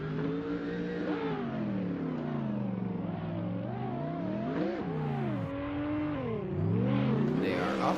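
Drift cars, led in turn by a Lexus RCF, roar toward a chicane at Road Atlanta during a VDC competition round, engines revving and wailing in rising and falling pitch, loud and sustained under a commentator's talk.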